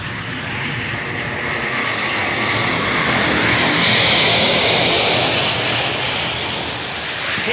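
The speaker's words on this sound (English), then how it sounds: "now rolling for takeoff from the right, the Airbus" An Airbus A350-1000 airliner rolling for takeoff at the Farnborough International Airshow, a loud, broad jet-engine roar that builds to a peak midway and then eases slightly, steady and near, with no speech.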